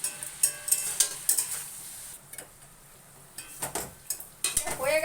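Eggplant pieces coated with salt and turmeric being stirred as they fry in oil in a pan, with scraping strokes of the spatula and an occasional clink of the pan over a steady sizzle, close up, with no talking.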